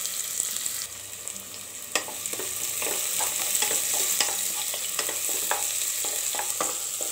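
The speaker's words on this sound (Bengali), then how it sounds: "তেলগুলো গরম হয়ে আসলে এখানে আমি সবটুকু পেঁয়াজ ঢেলে দিয়ে" Chopped onions sizzle and crackle steadily in hot soybean oil in a pan while a chicken curry is being started, with repeated sharp scraping clicks as they are stirred.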